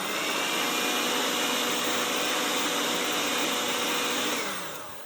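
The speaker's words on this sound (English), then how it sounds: "I've got my little mixer out, but I'm going to use the whisk attachment" Small electric stand or hand mixer with a whisk attachment running on low speed, a steady close whirring hum that holds evenly and then tapers off at the end, with no talking.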